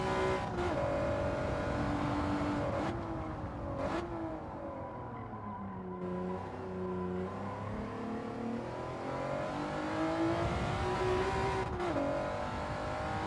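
Racing video game car engine with a mildly tuned F1-style character, revving up and down through gear changes with rising and falling whine, loud and continuous for the whole stretch.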